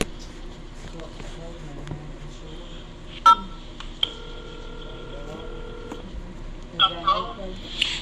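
Automated phone menu for a state parole office, with scattered telephone keypad DTMF tones pressed among line noise: a few brief beeps, a longer steady tone mid-way and a cluster of quick tones near the end.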